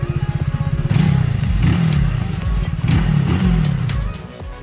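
Motorcycle with its factory exhaust, heard up close: a steady throbbing idle, then several strong revs that surge and drop back, loud and alone.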